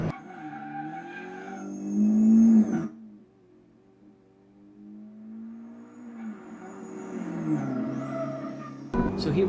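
A Honda Civic Type R FL5 drives laps at Mount Panorama, Bathurst, its engine note rising loud through the gears, dropping to a low idle-like drone, then climbing again with a shift near the end, with talk over it.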